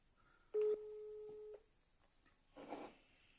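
An Andorran mobile phone placing a call gives a steady electronic signal tone lasting about a second, followed by a short pause and a burst of soft rustling noise, all fairly quiet.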